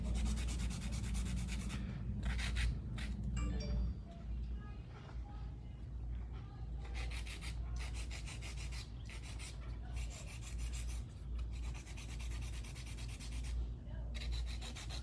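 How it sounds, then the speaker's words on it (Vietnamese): Nail file rubbing back and forth across an acrylic fingernail, a steady close abrasive scraping in repeated strokes under a continuous low background hum. "giũa nhẹ cho nó đều lại thôi chứ đừng có làm cho nó mắc cái xếp"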